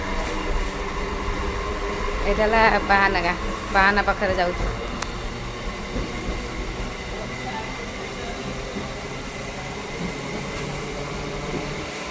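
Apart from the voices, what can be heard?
train running at night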